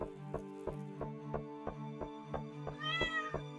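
A cat meows in the Stardew Valley video game, a single short clear meow over a repeating plucky musical loop with a steady rhythmic beat.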